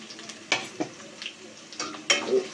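Garlic and onion frying in a pan for an egg butter tarka, with soft sizzling under a few sharp scrapes and clinks of a spoon stirring against the metal.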